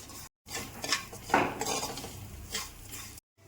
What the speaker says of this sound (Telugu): నెయ్యి కొంచెం వేడెక్కాక అటుకులను వేసుకొని కొద్దిగా రెండు నిమిషాలు వేయించుకున్నాం